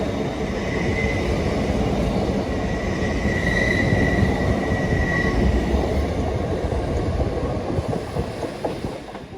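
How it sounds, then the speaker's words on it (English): East Midlands Railway class 156 diesel train approaching a station platform, a steady loud rumble with rhythmic wheel clatter and a faint high squeal, no voices. "It's East Midlands Railway, so it must be going to Norwich or Nottingham, something like that."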